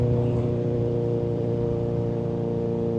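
MV Agusta F4 1000 sport motorcycle riding along a road, a steady, loud engine drone with a deep airbox growl and layered harmonic tones held constant throughout, with no voices.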